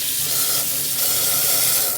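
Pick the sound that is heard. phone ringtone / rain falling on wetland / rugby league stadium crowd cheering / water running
water running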